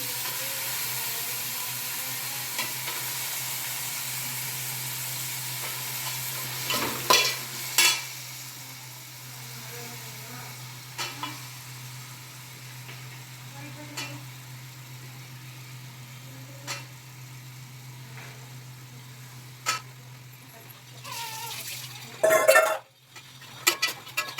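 Carrots and beans stir-frying in a pan for Maggi noodles: a low steady sizzle with scattered scraping stirs and a few louder clatters of the utensil toward the end.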